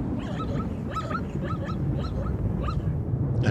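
Feeble, high whimpering calls from a lame foal, short thin cries repeated about every half second over a steady low rumble of wind or storm noise.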